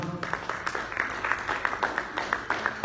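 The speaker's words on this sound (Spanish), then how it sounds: "Den un aplauso al Señor." A church congregation applauds the Lord during a Spanish-language sermon, a rhythmic, fairly quiet clapping with regular beats through the whole stretch.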